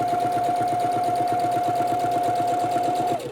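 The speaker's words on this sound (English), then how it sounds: "We're going to stitch across that line" Close up, a sewing machine hums in one continuous run as it stitches across a line near the corner of quilt fabric, then halts sharply.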